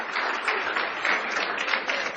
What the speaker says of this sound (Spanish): aplaudimos para recibir la palabra